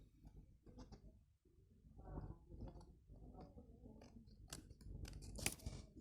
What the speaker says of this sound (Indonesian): di sini digunting.